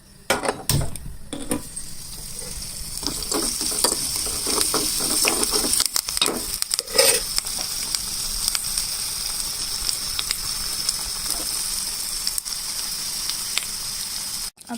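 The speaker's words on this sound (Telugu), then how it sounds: "ఈ విధంగా ఈ వెల్లుల్లి కూడా పచ్చివాసన వెళ్ళేంత వరకు కొంచెం వేయించుకోవాలి" Garlic and tempering spices fry in a pan for a raw mango pickle, giving a continuous close sizzle broken by a few sharp stirring scrapes and pan knocks, with no talking.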